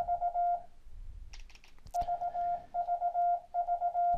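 Morse code letter V keyed through internet CW software on Linux, a clean tone repeating three short dits and a long dah several times, with a soft clatter of clicks between repetitions.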